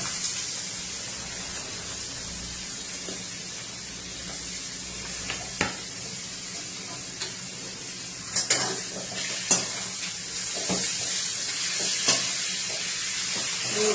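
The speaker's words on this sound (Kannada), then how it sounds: "ಬೀಟ್ರೂಟ್ ಹಾಕ್ತಾ ಇದ್ದೀನಿ" Beetroot for beetroot rice being added to a frying pan and stirred: a steady sizzle and fry with intermittent scraping and clinks of a spoon against the pan, close and alone.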